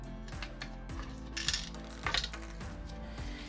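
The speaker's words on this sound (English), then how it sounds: "Now to remove the control board, we will take off four screws as well as removing a locking ring located on the volume knob." Small screws and a locking ring being removed from the control board of a JBL PartyBox Encore Essential speaker during a teardown: quiet, close metallic clicks, ratcheting turns and a couple of sharper clinks.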